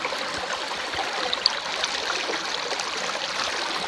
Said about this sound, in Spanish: en este hermoso río.